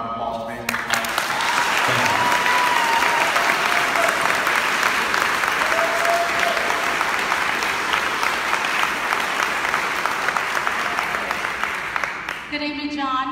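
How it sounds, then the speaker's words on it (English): A crowd at a campaign event gives a loud round of applause that starts abruptly, stays full and steady for about twelve seconds, then fades as a voice begins to speak. "let's go ahead and give him a round of applause"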